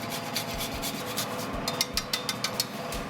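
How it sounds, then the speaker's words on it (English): Nutmeg grated over the top of a freshly baked egg custard tart, a close, steady raspy scraping in quick repeated strokes, with a few sharper scrapes toward the end, no talking. "we're going to grate over lots and lots of nutmeg"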